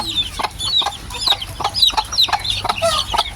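Several Hatch gray chickens, a mother hen among them, cluck close by in a rapid, uneven string of sharp calls with brief gaps.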